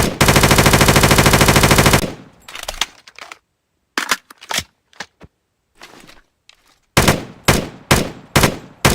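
An HK416 rifle chambered in 5.56 fires in a Minecraft Bedrock mod, starting with a loud, fast continuous burst and then moving to sharp, separated taps and short bursts with silent gaps between them.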